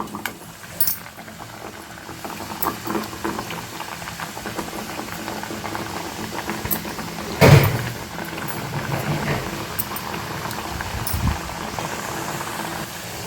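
Jaggery burelu sweets frying in hot oil, giving a steady, close, bubbling sizzle with a brief louder burst partway through as pieces are dropped in.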